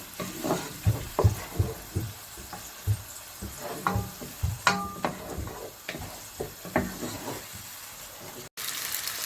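A ground tomato and green chili paste goes into hot masala for dhaba-style bhindi. It gives a steady sizzle with repeated close stirring scrapes and clacks against the pan, and no voices.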